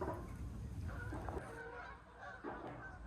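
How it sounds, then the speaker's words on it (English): Geese honk repeatedly outdoors, their calls fairly faint and mixed with a low background rumble. "Bloody geese."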